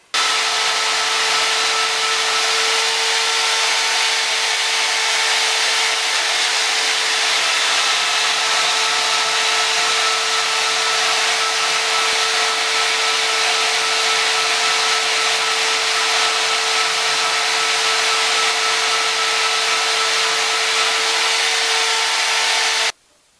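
A saw grinds steadily halfway into metal stock for a forged frontier fork, a loud continuous rasping hiss with a faint steady tone, running unbroken before stopping abruptly.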